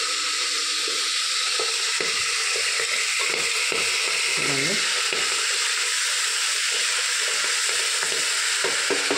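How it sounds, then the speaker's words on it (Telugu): Fenugreek leaves fry in hot oil with a bright, constant sizzle, close and loud, while soft clinks and stirring scrapes come and go underneath. "ఫస్ట్ అయితే మెంతాకు వేసేసుకున్నాం ఫ్రెండ్స్, బాగా వేగాలి ఆయిల్లో."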